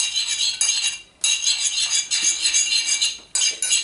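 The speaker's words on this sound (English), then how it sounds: "Let's just mix that together now." A spoon stirs hot sauce in a small dish, giving repeated close scraping and clinking strokes in a steady rhythm, with two brief pauses between bursts.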